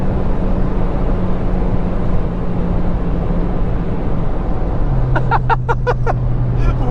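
A Volkswagen Polo GTI with the 2.0 TSI engine cruises on the German Autobahn, giving a loud, steady road and engine drone inside the cabin. A short run of chirpy clicks comes near the end.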